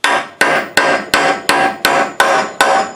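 A hammer strikes a pin on a Mustang door hinge in eight sharp metallic blows, evenly spaced about every 0.4 seconds with short ringing decays, loud and close with no talking.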